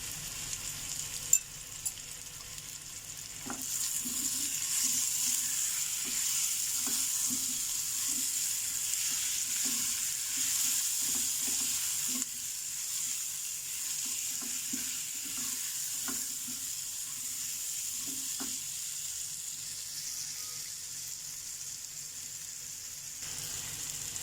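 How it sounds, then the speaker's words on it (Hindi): Masala and pumpkin pieces roasting in a pan for a pumpkin masala fry, giving a steady, close sizzle and frying hiss throughout, with soft stirring scrapes scattered along it. "ये भुन चुका है मसाला भी और पम्पकिन भी"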